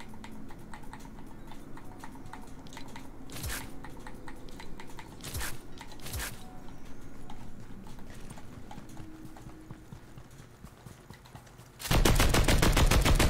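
Gunfire in the Fortnite video game crackles as a few sharp isolated shots amid a low steady background of game sounds, then a sudden loud dense burst of fire near the end.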